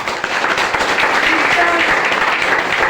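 Enthusiastic applause from a crowd at an Indian company event welcoming bonus recipients, sustained dense clapping at steady volume.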